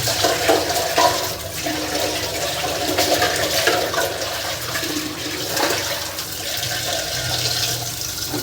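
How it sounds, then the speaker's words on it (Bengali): An item is washed under a strong stream of running water, a continuous close splashing and gushing that lasts throughout with small bursts of scrubbing. "তো ধুয়ে নিচ্ছি এখন।"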